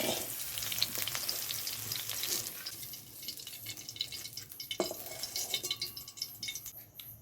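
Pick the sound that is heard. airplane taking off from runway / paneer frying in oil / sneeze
paneer frying in oil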